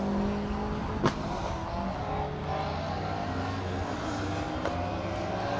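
A Renault Clio rally car passes on a closed forest stage during a rally, its engine a steady, moderately loud drone throughout with a couple of brief sharper knocks, heard alone without talk.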